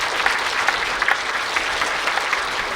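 Steady, dense applause from an audience at a Tamil comedy debate event, many hands clapping together at close range for a few seconds without a break.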